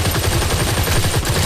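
Rapid automatic gunfire in the online shooter Firefall, a steady stream of punchy shots repeating evenly for over a second, loud and close with no talk over it.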